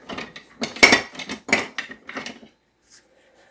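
Metal spoons and cutlery clatter and clink as someone rummages through them, a quick run of loud close rattles that stops, then one faint clink.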